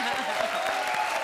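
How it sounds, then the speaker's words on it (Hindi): Audience clapping in a comedy show studio, a steady dense patter of hands filling the whole moment, fairly loud with faint voices mixed in. "जोरदार तालियां इनके लिए।"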